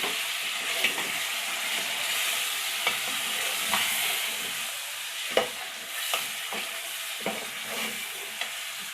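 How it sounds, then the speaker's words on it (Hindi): Chicken with yogurt, onion, cardamom and ground chillies fries in a pot for white korma, a steady loud sizzle with scattered scrapes and knocks of a stirring spoon, no voices. "इसको पानी खुश्क होने तक हमें भूनना है।"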